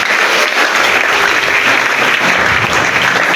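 A church congregation applauding, a dense steady clapping from many hands that fills the whole stretch without pause.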